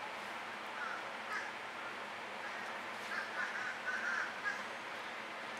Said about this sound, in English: we have quacking crows in Florida, where we live. That's what you're hearing in the background.